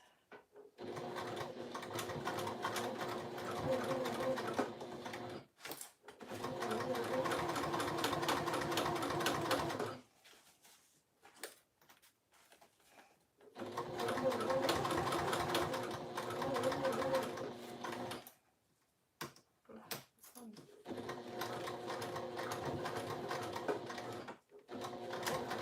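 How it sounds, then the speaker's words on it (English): A sewing machine back stitches along the edge of a fabric pouch in several steady whirring runs of a few seconds each, with short quiet pauses between them. "Back stitching again at the edge,"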